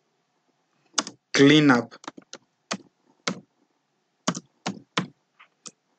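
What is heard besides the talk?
typing on a computer keyboard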